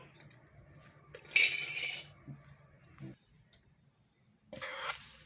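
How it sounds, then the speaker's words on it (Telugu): A metal spoon clinks and scrapes against a vessel while mango tamarind rice is mixed, in a few separate bursts with quiet gaps between them, close and fairly soft. "ఇలా మొత్తం కలిసే విధంగా కలుపుకోవాలండి"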